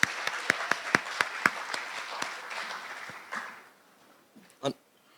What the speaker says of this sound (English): A round of applause for the chairman.